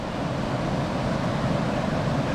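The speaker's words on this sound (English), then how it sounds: "we could get into the waterfalls and see that. And you can probably hear it now" A waterfall in Mexico, Apataclo Falls, roars as a constant dense wash of rushing water, steady and fairly loud with no pauses or voices.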